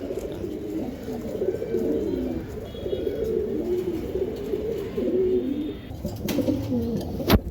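Racing pigeons coo in repeated soft, throaty bursts close by, a continuous rolling murmur of several birds with no one talking.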